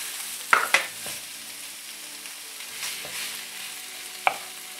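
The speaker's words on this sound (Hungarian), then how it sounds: "Akkor rádobjuk a sonkát és együtt pirítjuk őket körülbelül 5 percig." Ham and onion frying together in a pan for an egg-and-ham dish, giving a steady low sizzle with a few sharp clacks of stirring, close and with no talk.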